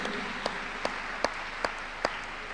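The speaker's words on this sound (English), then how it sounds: "Clap your hands unto God of the choosing." A church congregation at a miracle service claps hands in a slow, even rhythm, about six distinct claps spaced roughly half a second apart, fairly faint over a quiet background hum.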